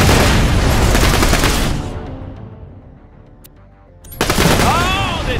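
Dense turret gunfire in the game Borderlands: The Pre-Sequel, a loud continuous rattling burst that drops away into quieter rumble, then surges back with heavy fire and whooshing effects, with a voice talking over it.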